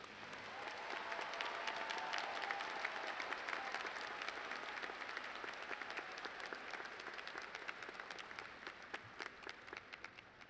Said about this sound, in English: Please join me in a round of applause for these new graduates.